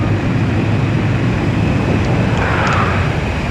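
Jet aircraft engines roar steadily during an aerial refueling mission in the video game Ace Combat 5, a loud continuous rumble with faint higher tones surfacing near the end.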